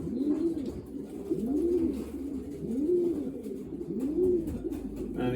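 Racing pigeons coo repeatedly while being packed into baskets for races, a steady run of four or five rolling coos, close and moderately loud over a low background hum.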